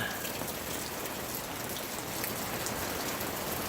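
Steady rain drums on a camp canopy during winter camping in Prince Rupert, British Columbia, a dense and continuous patter close overhead.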